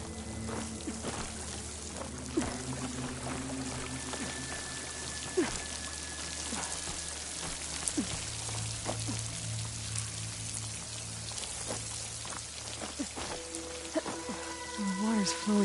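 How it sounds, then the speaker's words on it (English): Water flowing into a wall near a waterfall in Horizon Forbidden West, a steady soft rushing and trickling wash, faint and continuous, with scattered small game sounds and tones over it. "The water's flowing into the wall."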